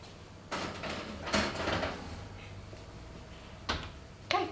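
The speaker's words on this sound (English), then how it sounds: "Should I open the oven?" An oven door opens during a home cooking session, giving a few short knocks and a scraping slide against a faint room hum, with a final sharp clack near the end.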